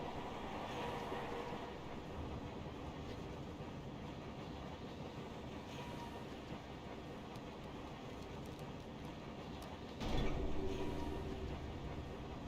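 Stormwind tram in World of Warcraft rolling steadily with a continuous low rumble and rail clatter throughout, growing briefly louder near the end.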